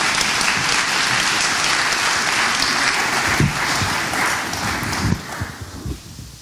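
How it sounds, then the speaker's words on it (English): Audience at a talk on faith and suffering applauds a guest called up on stage, a dense and steady roar of clapping that trails off near the end. "Do you want to give him a round of applause?"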